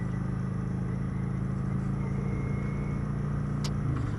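A motorcycle engine drones steadily while riding in second gear, a constant low rumble with road noise that holds at the same pitch throughout, heard from the rider's position.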